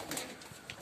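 Pigeons bathing in water pots give a brief, soft coo from a short distance, faint against light background noise.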